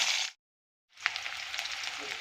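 Onion dropped into hot oil with cumin seeds that have already turned red, then curry leaves, cooking in a pan for a tempered curd rice. Steady close sizzle and frying, with a brief silent gap before the sizzle resumes.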